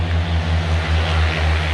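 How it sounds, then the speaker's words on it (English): Motorbikes passing by outdoors, a loud, steady engine drone with a deep low rumble that swells slightly, nearby, with no talking. "Oh, motorbikes. Very noisy. Very noisy indeed."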